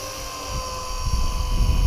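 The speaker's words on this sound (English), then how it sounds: "they are a small helicopter" A small Blade SRX200 radio-controlled helicopter hovers outdoors on a windy day, a steady high-pitched motor and rotor whine with low wind buffeting growing louder toward the end.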